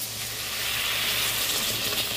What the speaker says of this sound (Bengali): এই যে জল আবার এর মধ্যে দিয়ে দিচ্ছি